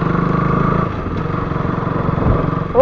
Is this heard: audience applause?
no